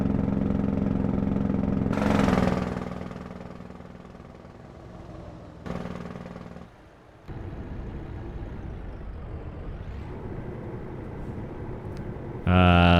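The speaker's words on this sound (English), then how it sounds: "The engine brake never gets old." Heavy truck engine brake in American Truck Simulator, driving through Idaho countryside: a loud, sustained low rumbling drone that swells and breaks off in several stretches, with brief dips between and a bright burst at the end.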